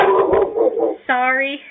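A pet dog barks at a neighbor coming home, one loud close howling bark after a person briefly speaks.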